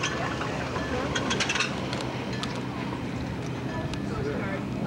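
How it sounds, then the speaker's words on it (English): Steady broadband rumble of a glass-bottom tour boat moving on water in Hawaii, with wind buffeting and faint voices murmuring in the background throughout. "It's the glass bottom boat tour."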